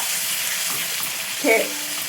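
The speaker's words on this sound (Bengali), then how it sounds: "পেঁয়াজ আদা রসুন পেস্ট করা ছিল, ওটাকে কড়াই দিয়ে দিলাম।" Onion, ginger and garlic paste fries in oil in a wok, a continuous close hiss with a short louder sizzle midway as it is stirred, no talking.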